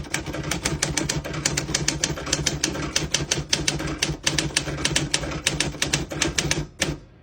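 Rapid, loud mechanical clacking of 1967 Smith-Corona Secretarial 76 manual typewriter keys striking in quick bursts, close up, ending with a short pause and a final clunk.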